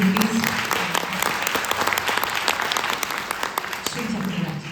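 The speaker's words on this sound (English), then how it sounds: "Let's have another round of applause for these cookies." An audience at a Tyagaraja Aradhana Carnatic music event in Cleveland breaks into sustained applause, dense clapping lasting several seconds, with a voice speaking at the start and end.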